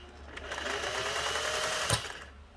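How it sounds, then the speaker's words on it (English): A Singer 401a sewing machine stitching a tiny zigzag, running steadily with a fast even whirring hum close by, and a brief knock near the end. "this is a zigzag that goes back and on one side and then the other."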